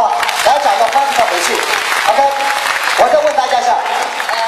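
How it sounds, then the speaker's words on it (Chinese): An audience at a public speaking seminar claps in a steady, dense burst, loud and close. Someone speaks over it, his voice rising through the clapping. "掌声欢迎他回去"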